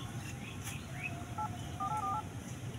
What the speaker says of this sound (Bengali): সিআইডি কে ফোন করতে হবে।